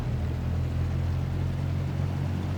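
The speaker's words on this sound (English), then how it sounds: "I'm going to increase the RPM a little bit here." A steady, low droning hum from the engine of an Aerobask Lancair Legacy RG in X-Plane 12 runs continuously and evenly, with a smooth tonal buzz and no audible rise.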